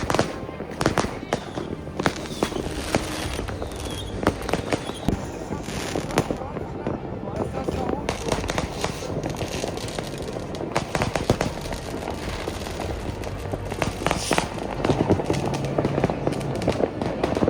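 Fireworks crackle and bang continuously at a distance, dense overlapping pops and bursts with occasional louder reports, and voices now and then.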